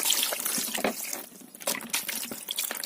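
Fish being rinsed under a running kitchen tap, a steady splashing water stream with bursts of sloshing as the fish is turned and scrubbed in the sink, close and fairly loud.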